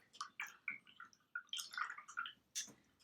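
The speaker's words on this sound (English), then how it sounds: "I'm going to rinse my brush." A paintbrush being rinsed in a water cup after acrylic painting, giving soft, close swishes and small drips in short irregular bursts against quiet surroundings.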